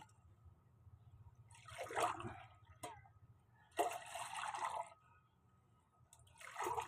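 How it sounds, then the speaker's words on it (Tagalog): Cold water poured into a hot drink, heard as a few short close trickling splashes separated by quiet pauses. "Nilalagyan ko na lang ng tubig na malamig."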